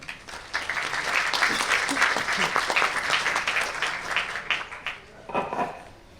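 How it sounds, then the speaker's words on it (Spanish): A conference audience at a circular-economy presentation applauds for several seconds, a steady wash of many hands clapping that thins out, followed by a few brief handling sounds. "Un aplauso, por favor."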